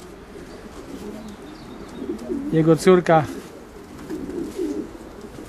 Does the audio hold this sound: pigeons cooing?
yes